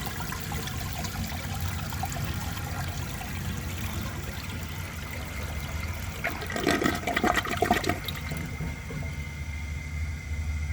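1973 Eljer Emblem toilet flushing a washcloth, a low watery rush that builds into a loud gurgling swirl midway, then drains back to a quieter trickle as the tank refills.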